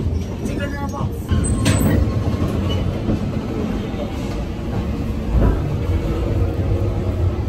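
A train in India rumbles and rattles steadily along the rails, with occasional clanks and muffled voices in the background.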